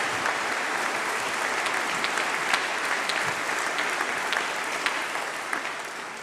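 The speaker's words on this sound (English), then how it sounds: "So a big round of applause." Sustained applause from a large audience at a university summer congregation ceremony, honoring the student speaker; dense, even clapping that holds steady throughout with no voices.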